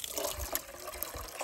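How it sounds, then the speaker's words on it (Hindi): Cold water poured from a container during a fishing outing at a waterfall, a brief, steady splashing trickle close by with no voices. "मुझे ठंडा पानी डालने दे,"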